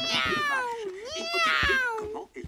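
A cat, probably in a children's cartoon, gives two long, rising and falling meows in quick succession, close and clear, with soft background sounds between them.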